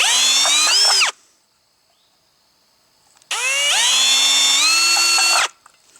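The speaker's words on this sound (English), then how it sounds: "a 1/8 inch drill bit, and we drill 2 holes in the center, just about a ½ inch apart" A power drill boring holes with a 1/8 inch bit for a bush pot lid, two close whining bursts of about one and three seconds each, pitch sliding as the motor loads, separated by near silence.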